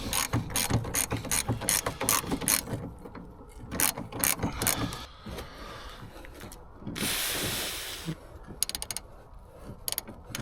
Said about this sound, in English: We're now just trying to get this top bolt out.